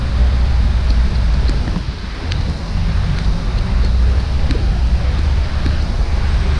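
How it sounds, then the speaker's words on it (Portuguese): Steady rain falls over a quiet outdoor rural farmers market selling local produce and baked goods, a dense continuous wash with wind buffeting the microphone and occasional sharper taps, loud and close throughout. "Tem bastante chuva."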